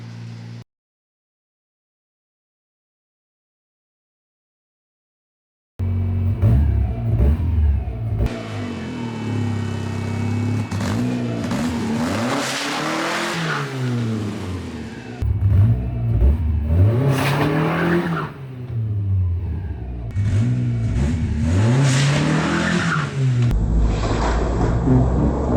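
After a brief silence a hot Lotus 7 engine revs repeatedly during a burnout attempt, pitch rising and falling in loud surges over a steady rumble.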